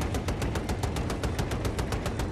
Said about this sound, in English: Oh, he's shooting from the top of the building